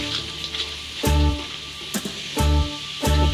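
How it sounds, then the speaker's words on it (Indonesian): A shrimp dish fries in a pan, with a steady close sizzle punctuated by three louder bursts of hissing and crackling as the food is stirred or tossed, with no talking. "Kita goreng-goreng."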